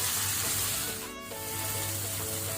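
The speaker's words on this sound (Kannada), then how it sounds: "ಟೊಮೆಟೊ ಸಹ ಒಳ್ಳೆ ಫ್ರೈ ಆಗಬೇಕು, ಸಾಫ್ಟ್ ಆಗಬೇಕು." Tomatoes frying in oil in a pan give a soft, continuous sizzle with a brief dip partway through, faint and close, with no talking.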